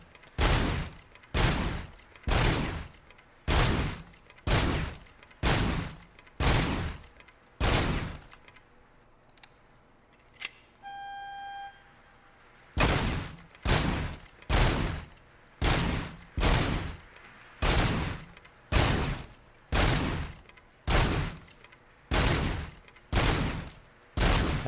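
Service-weapon gunfire in a video game: loud, regular bursts of shots repeat across the clip, briefly pausing midway for a quiet stretch with a short electronic tone before the shooting resumes.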